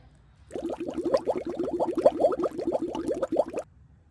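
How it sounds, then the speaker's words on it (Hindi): A cartoon dinosaur drinks from a pond, shown by a quick, steady run of gulping, plopping water sounds lasting about three seconds, then it stops. "उसे बहुत जोर की प्यास लगी होती है और वो तालाब से पानी पीने लगता है"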